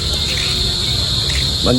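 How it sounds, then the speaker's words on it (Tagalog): Crickets chirp in the mountain countryside, a loud continuous high-pitched trill that holds steady throughout, with faint voices and rustling underneath. "Ngayon kuliglig. May mga kuliglig na tarong."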